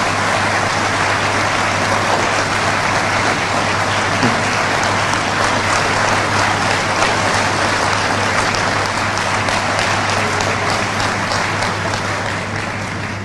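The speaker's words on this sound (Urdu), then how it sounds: "اس حال میں تالیوں کی گونج آپ کو بتائے گی کہ یہ عمران خان کو کتنا چاہتے ہیں" A large crowd at a political rally in Pakistan applauds nonstop, dense loud clapping filling the space for over ten seconds and easing slightly at the end.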